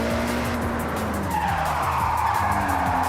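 Car drifting under handbrake in the Forza Horizon 6 racing game, with loud sustained tyre squeal and skidding over a revving engine as it slides through a mountain-road corner.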